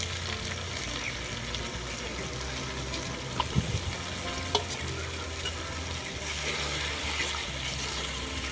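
Lightly fried chicken pieces being stirred into spice masala in a pan for chicken chaap, a steady sizzle with a couple of sharp utensil knocks, close and continuous.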